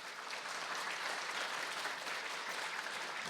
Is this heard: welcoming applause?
yes